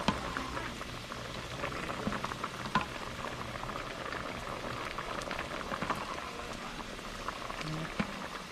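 Pasta noodles boil in a pot on the stove, a steady low bubbling and popping simmer heard close up and continuously, with a faint voice briefly audible in the background.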